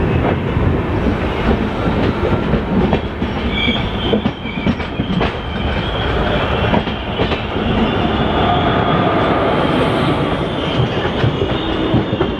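The Gondia–Kolhapur Maharashtra Express special thunders past close by, a loud continuous roar of wheels with rhythmic clatter and occasional squeals over rail joints, heard alone without talk.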